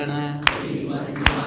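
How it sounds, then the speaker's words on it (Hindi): Two sharp, loud hand claps from an audience ring out about 0.8 seconds apart over sustained devotional chanting of the Narayana name at a Bhagavatam discourse. "सब लोग ताली की सेवा बजाते हुए"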